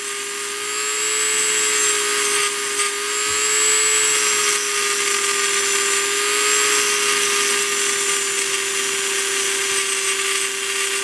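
A Dremel rotary tool grinds the end of a metal wire for a small hatchet, a loud, continuous high-pitched whine that stays close and steady throughout, with no one speaking.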